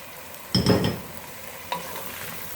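Beef pieces frying in onion, garlic and ginger paste for a karahi, a soft steady sizzle broken by two sharp bursts of stirring and scraping in the pan, close and without talk.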